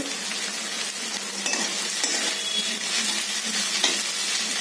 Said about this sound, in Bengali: পেঁয়াজটা মোটামুটি ভালো করে ভাজতে হবে